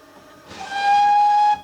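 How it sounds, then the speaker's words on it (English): A loud steam locomotive whistle sounds in one sustained, piercing blast over a background hiss, cutting off sharply after about a second. "There's nothing subtle about a steam engine"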